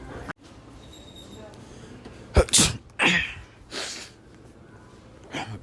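Several sharp, close sneezes during a prank on strangers, loud explosive bursts with snorts and breaths between them over a quiet background.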